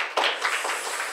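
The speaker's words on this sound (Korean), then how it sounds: "우리 박수로 환영합시다" An audience at a Korean seminar talk show claps to welcome a guest lawyer. The applause is soft, brief and fairly close, with a few distinct claps in quick succession.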